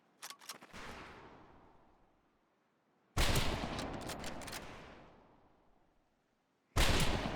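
Rifle volleys crack on a firing range in Medal of Honor Pacific Assault, each loud burst of overlapping shots ringing out and trailing off into a long echoing decay, with quiet gaps between the three volleys.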